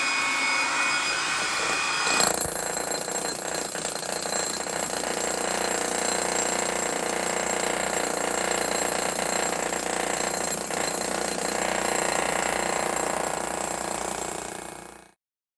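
A loud, continuous power drill grinds and whirs for about thirteen seconds during a bathroom remodel after a brief start, with no speech, then cuts off abruptly.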